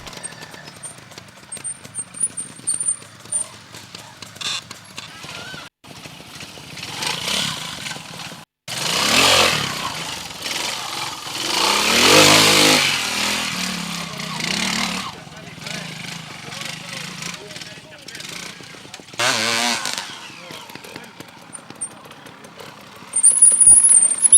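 Vintage trial motorcycles, including Bultaco and Ossa machines, at a French league championship trials competition, their engines revving and surging loudly in bursts with a nearer pass in the middle, over general outdoor noise and some talk.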